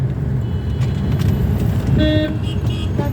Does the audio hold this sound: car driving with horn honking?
yes